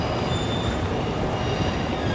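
Train at a station rumbling steadily with continuous broadband noise and faint wheel squeal, loud and close throughout without speech.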